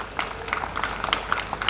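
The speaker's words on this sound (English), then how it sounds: "I think school deserves a round of applause from the parents." Parents at a school annual day celebration clap in a round of applause, a brief patter of scattered claps at moderate distance.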